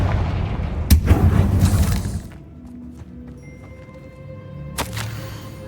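A Confringo blasting spell explodes in Hogwarts Legacy: a loud, booming blast with a rumbling tail, a quieter lull with faint tonal effects, then a second sharp burst near the end.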